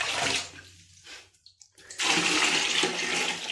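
Water poured by hand over a person bathing the old-fashioned way in cold winter weather, without a water heater: bursts of splashing and gushing, a brief lull with scattered drips, then a steady loud stream.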